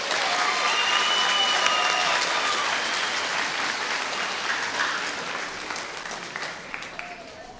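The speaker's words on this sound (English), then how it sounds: "one more round of applause for our kind students" Steady applause from the audience at an eighth-grade school recognition ceremony honoring students, a loud continuous wash of clapping that fades gradually toward the end.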